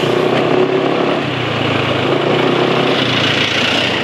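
Engine running slightly rough with some oil additive effect, on Petronas Synthium 800 10W40 synthetic oil due for a drain, a loud, steady close-up idle drone with no one talking.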